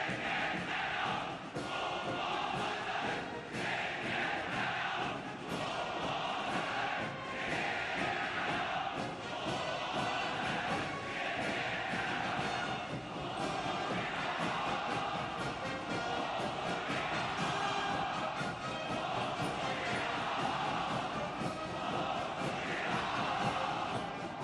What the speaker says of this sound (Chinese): 热烈的掌声和如潮的欢呼响彻全场